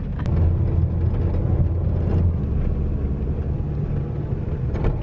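A rental car climbing the steep roads of St. John in the US Virgin Islands, its engine a close, steady low rumble with road noise throughout and no talk.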